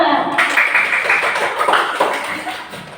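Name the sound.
applause for group one in a classroom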